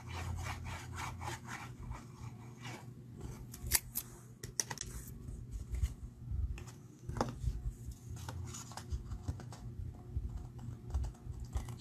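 Scissors snip and rub through excess material, trimming off an overage in a craft setting, giving irregular close cutting and scraping strokes with a few sharper clicks over about twelve seconds.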